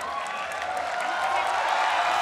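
A sellout crowd at a martial arts contest in Jakarta, Indonesia, roars and cheers in a steady, dense wash that swells slightly toward the end, with no clear voices standing out.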